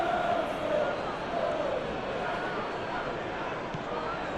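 A crowd roars in a football video game after a shot, a broad sustained stadium swell of cheering voices with a commentator talking over it.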